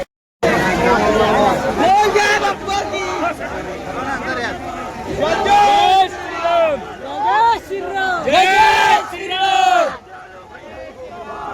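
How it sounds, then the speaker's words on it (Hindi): Crowd noise fills the Juni Sarovar fair in Bemetara, Nawagarh, Chhattisgarh, a dense babble of many people close by. Someone speaks loudly over it in bursts. "बहुत ही ज़्यादा भीड़ है इधर संगवारी हो"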